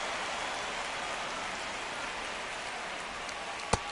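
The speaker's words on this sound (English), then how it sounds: "the field's not going to be able to hold up if the rain gets any worse than this" Steady, dense rain hisses over a baseball field in an MLB video game, a constant wash with one sharp tick near the end and no voices.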